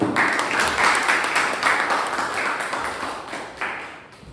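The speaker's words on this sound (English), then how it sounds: "Let's have a huge round of applause for Toastmaster Manisha." Applause from the audience at a Toastmasters club meeting rises at once, then thins and fades over a few seconds, with no talk over it.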